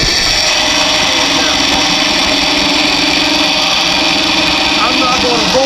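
A saw cutting out a metal necklace bracket in a machinist's shop, giving a steady, continuous high-pitched whine that runs loud and unbroken throughout.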